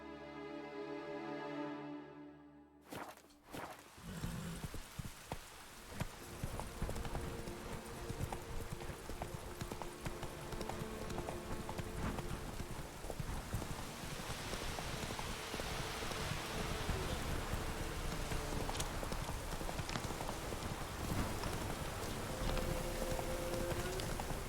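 Roach, the horse in The Witcher 3 video game, trots with steady, rhythmic hoof clip-clops, moderately close, over a constant patter of rain that builds throughout, with no speech over it.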